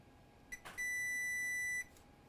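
A multimeter on a laptop motherboard (HP Spectre x360 15-inch) sounds a steady continuity beep of about a second while probing a diode shorted to ground, preceded by a couple of faint clicks, in a quiet room.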